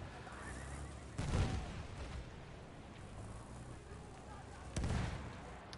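Gunfire in a competitive shooter match between teams FoAm and Cure: two sharp, loud bursts of shots stand out over a constant rumbling game mix, with faint background voices.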